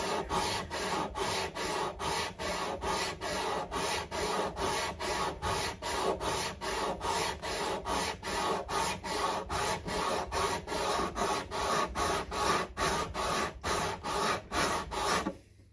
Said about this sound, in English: Great sandpaper, this hyomanth stuff.